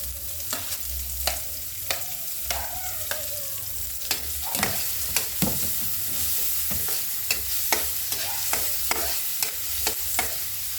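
Red onion and ginger sizzle in hot oil as they are stir-fried for sweet and spicy chicken feet adobo, with a constant close frying hiss broken by repeated sharp spatula scrapes and taps against the pan, and no talking.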